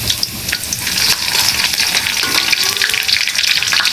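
Ginger garlic paste frying in a pan for rice cooking sizzles loudly and continuously, with crackling spatters and the scrape of stirring close by.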